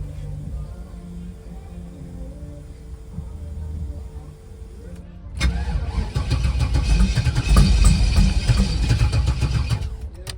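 A twin-turbo LS V8 in a G-body car sits under a low steady hum, then abruptly cranks and catches halfway through, roaring loud and close as it runs unevenly to the end.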